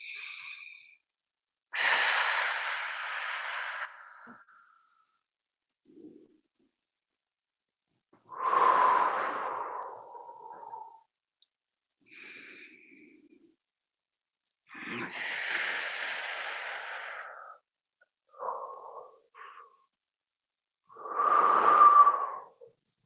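Slow, deep breaths drawn in and released during a qigong class, several long airy inhales and exhales spaced by quiet pauses, close and fairly soft.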